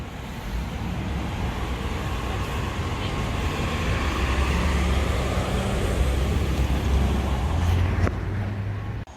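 Cars pass through downtown Naperville traffic, including a Jeep Wrangler and a Lincoln Navigator, as a steady broadband road rumble that rises and falls without pause, fairly close and continuous, ending with one brief louder swell near the close.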